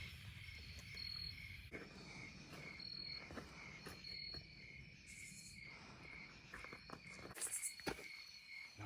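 Crickets chirp at night at a campsite in Linville Gorge, a steady, faint insect chorus with scattered rustles and soft footsteps nearby.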